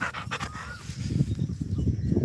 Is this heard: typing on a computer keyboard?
no